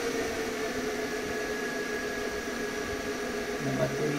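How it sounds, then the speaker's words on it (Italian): A microwave oven running on solar battery power gives a steady, even mechanical hum with a constant high whine, unbroken for several seconds, with a low tone shifting near the end. "mentre il microonde va"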